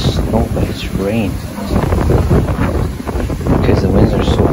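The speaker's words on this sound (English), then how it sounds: "because the winds are so fast" Hurricane Laura in Lake Charles, Louisiana: strong wind roars and buffets the microphone while heavy rain pours down, a dense, continuous loud rush that swells and falls. People talk faintly under it.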